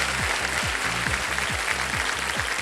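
Crowd applause fills the studio of the quiz show KBC, a continuous dense patter of clapping, with a regular low rhythmic beat pulsing beneath it at roughly half-second intervals.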